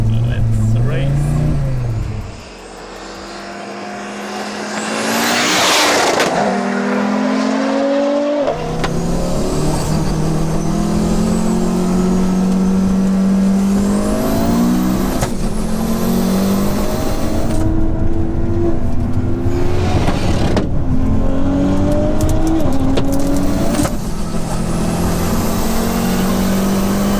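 A 650 hp Audi S2 and a 600 hp Audi S5 quattro launch side by side in a drag race, engines roaring loud and rising through repeated gear changes with turbo whooshes, while people talk over the noise.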